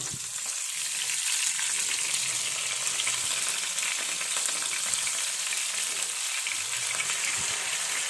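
Food fries in a pan with a dense, continuous hiss and crackle that holds at an even level throughout, close up and with no voices.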